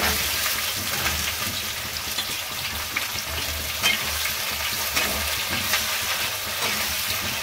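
Onion added to hot oil after bay leaf for a village-style chicken curry, a loud, dense and steady sizzle close up with occasional stirring scrapes and no talk.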